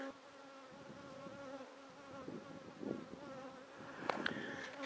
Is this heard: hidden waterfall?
no